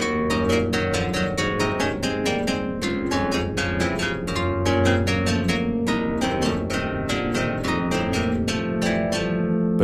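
A keyboard passage from Bach's Third Partita, played in the printed edition version: a steady, continuous stream of closely spaced notes over sustained lower harmony, with no talking.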